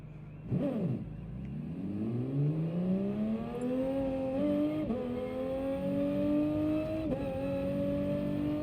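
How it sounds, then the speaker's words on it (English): A Toyota GR Supra engine in a racing video game revs up steadily, pitch climbing through quick gear shifts, loud and continuous with no talking. "GR Supra sounds good on this game"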